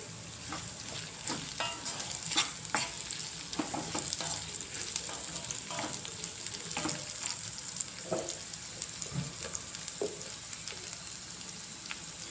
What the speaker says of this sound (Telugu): ఇందులో 2 రెబ్బలు కరివేపాకు కూడా వేసుకోవాలి.